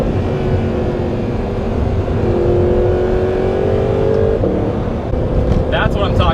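An Audi R8 V8 supercar revs hard after a downshift, its engine droning loud and close from inside the cabin with rising and shifting tones, and voices briefly break in near the end.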